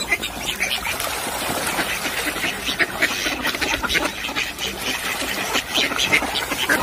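Ducks quack busily while being fed outdoors in winter, a dense, continuous chorus of nasal calls from a large flock with water trickling and splashing beneath, steady and fairly close throughout.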